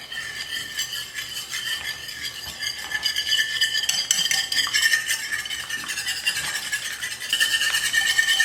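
Egg wash mixed with chili flakes and parsley flakes being beaten in a bowl, a steady busy clatter of utensil against the bowl's sides that grows slightly louder toward the end, with no talking.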